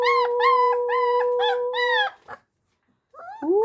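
Three-week-old puppies howl in a tonal, wavering chorus, several close, loud rising-and-falling calls stacked together for about two seconds, then a brief pause before a new howl begins.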